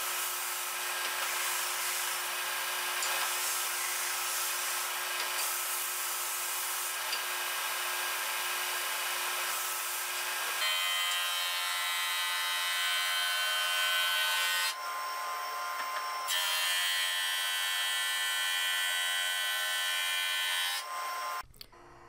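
Edge sander, then board sander, smoothing a multi-layer laminated board made from thin wood strips: a steady high whining motor with abrasive rubbing, the tone shifting partway through as the second machine takes over, loud and close with no talk.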